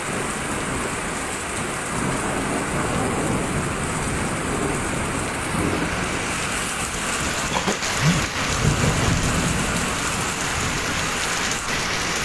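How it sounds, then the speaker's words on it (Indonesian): Afternoon rain falls at the Palutungan tourist area, 1,200 m up Mount Ciremai in Kuningan, as a steady dense hiss with low thunder rumbling beneath, continuous and close throughout, with no voices. "Suasana hujan di sore hari di kawasan objek wisata Palutungan."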